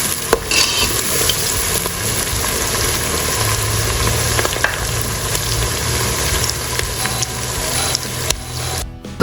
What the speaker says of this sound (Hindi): प्याज हमने गोल्डन ब्राउन कर लेने हैं।